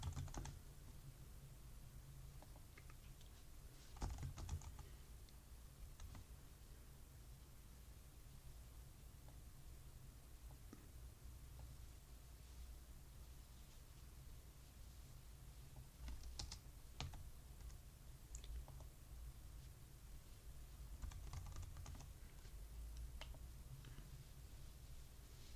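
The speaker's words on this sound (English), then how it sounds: "So I'm just typing in the names" Names being typed on a computer keyboard, a steady run of soft key clicks with a few louder bursts over a constant low hum, no talking.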